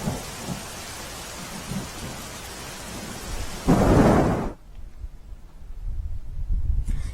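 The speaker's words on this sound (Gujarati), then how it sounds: "ગાજવીજ સાથે મેઘરાજા મહેરબાન થયા" Heavy rain pours steadily during a thunderstorm with strong wind in rural Vijaynagar taluka, Sabarkantha, Gujarat, broken by a loud close rumble of thunder before the downpour continues.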